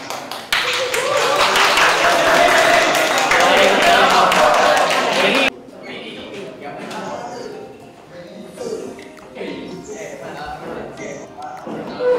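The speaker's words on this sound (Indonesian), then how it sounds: "beri tepuk tangan untuk kelompok 2" A classroom of students applauds a group after its presentation, loud dense clapping for about five seconds that then stops abruptly, followed by quieter room noise and scattered sounds.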